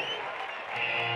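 Rodeo crowd applauding a bull at a bull-riding event, a dense, steady wash of clapping and cheering that swells slightly near the end, close and fairly loud, with no clear talk over it.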